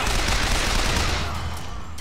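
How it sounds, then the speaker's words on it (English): Rapid sustained machine gun fire from Bioshock Infinite, a dense rattling stream of shots that stays loud throughout and eases only slightly at the end. "I'm gonna need the machine gun for this."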